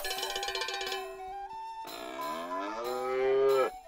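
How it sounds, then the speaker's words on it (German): A cow moos twice in South Park: The Stick of Truth, a drawn-out low bellow after a stretch of jingly electronic chimes, loud and close with no talking. "Eine Kuh!"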